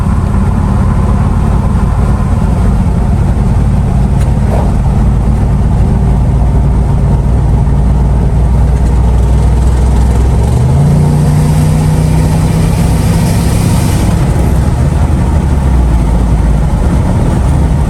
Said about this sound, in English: here we are, first drive in the truck